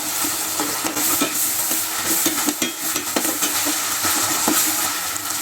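Ginger garlic paste frying with softened onions in a pan for vegetable biryani, a continuous loud sizzle broken by rapid scraping and stirring strokes throughout.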